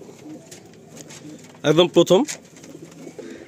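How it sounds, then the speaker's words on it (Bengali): Black pigeons at a Madrasi pigeon loft give soft, steady cooing in the background while someone speaks briefly over them. "এটা কালো পায়রা দেখুন"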